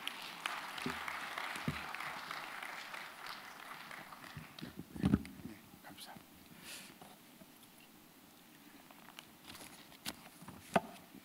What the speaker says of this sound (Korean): 우리 정인수 목사님 나오실 때 감사합니다, 사랑합니다, 축복합니다 하는 마음으로 큰 박수로 맞이해 주시겠습니다